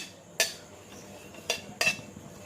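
Cardamom pods and bay leaves being stirred in hot oil for a wedding-style mutton curry, with three sharp metallic clinks of a spoon against the pot over a faint sizzle, close and without talk.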